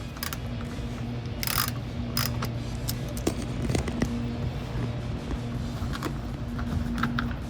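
A hand ratchet loosens a bolt on the front bumper skid plate of a 2021 Ford Bronco, giving quiet intermittent clicking bursts over a low steady hum, close by with no talk.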